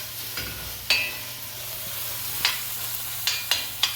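A tomato mixture for Trinidad-style stewed red beans fries in a pot with a low steady sizzle, punctuated by a few sharp spoon scrapes against the pot, close up and without voices.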